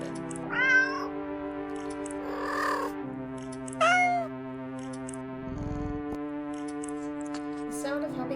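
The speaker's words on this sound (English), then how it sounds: "The sound of happy cats munching away at their fish fills your ears." Video game cats meowing while eating fish: several drawn-out, rising meows come and go over a steady tonal background, with soft chewing and munching noise in between.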